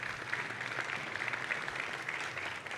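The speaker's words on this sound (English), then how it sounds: "Another round of applause for L2Bit." Applause from a conference audience at Devconnect ARG after a lightning talk, a continuous, moderately distant wash of clapping hands holding steady for about three seconds without any speech.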